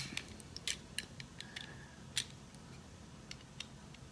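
Quiet snipping of heat shrink tubing on a waterproof FPV drone build, a scattering of short, sharp cuts and clicks spread unevenly over a few seconds, close by with no talk.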